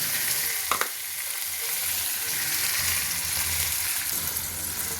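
Bombay duck fish frying in a pan with ginger, onion and garlic spice paste gives a loud, continuous close-up sizzle, broken briefly by a stirring clatter near the start.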